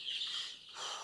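Young chicks for sale, from one-week-old to ten-day-old birds, give a continuous high-pitched peeping and chirping, a steady busy twitter from a group close by with no voices over it.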